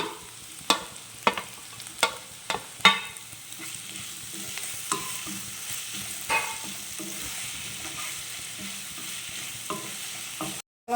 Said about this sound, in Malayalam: അപ്പോൾ ഈ സവാളയ്ക്കകത്തോട്ട് നമുക്ക് തക്കാളി ചെറുതായിട്ട് അരിഞ്ഞ് വെച്ചിട്ടുണ്ട്